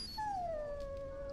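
A dog in the video game Dragon Age Origins lets out one drawn-out, high whimpering whine that slides downward and then holds steady, close and clear over a quiet background.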